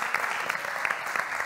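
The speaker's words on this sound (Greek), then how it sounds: "Χειροκροτάμε" Studio audience on a Greek TV reality show applauds steadily, a dense, even wash of clapping with no one speaking over it.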